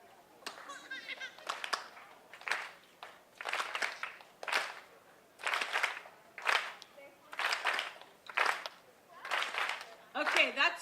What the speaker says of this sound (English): Here is how you clap.